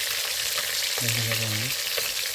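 Fish rubbed with salt, spices and turmeric frying in oil, a continuous bright sizzle with a brief low hum midway.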